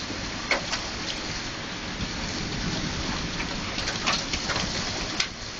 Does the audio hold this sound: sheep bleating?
no